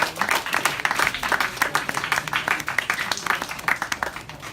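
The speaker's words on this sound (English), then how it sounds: "Give yourselves a round of applause." Audience applause, many hands clapping in a dense, steady burst that carries on throughout.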